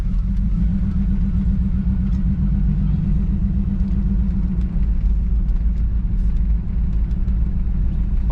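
A 1963 Chevrolet Impala, revived after sitting 35 years on old tires, driving with a loud, steady low engine rumble heard from inside the car, continuous throughout.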